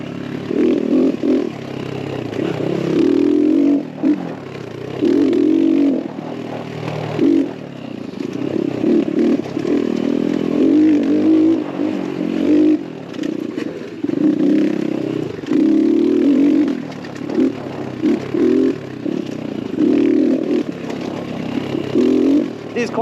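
An X-Pro Templar 250cc dirt bike engine revs on a trail, throttle rising and falling in repeated surges, loud and close, with a rider's voice partly over it.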